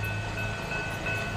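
A westbound Union Pacific train rolling past a crossing in Montour, Iowa, a steady rumble of rail cars with faint rhythmic clatter, heard briefly at moderate distance.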